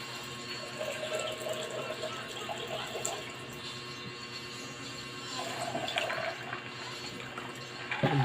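Water runs steadily from a tap, a continuous moderate hiss that persists throughout without pause, with no speech over it.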